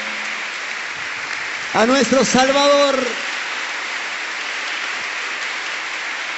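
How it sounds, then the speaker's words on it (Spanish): Audience applause at a concert, a steady wash of clapping that runs throughout, while someone speaks briefly over it in the middle. "el aplauso más fuerte"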